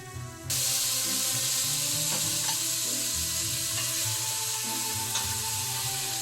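Pork for an apple and pork stew browns in a hot frying pan, giving a steady, close, continuous sizzle and crackle with faint scraping from stirring, starting abruptly after a brief quieter moment.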